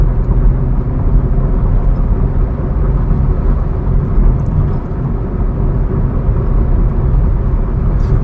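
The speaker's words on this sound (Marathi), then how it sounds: "आत्ता मी मित्रांनो हायवेला चालवतोय आणि गाडीच्या आतमध्ये येणारा आवाज तुम्ही नोटीस करू शकता." Steady low road and wind rumble inside a family car driving on a highway, with engine noise almost absent; a continuous, even drone fills the cabin throughout without pauses or talk.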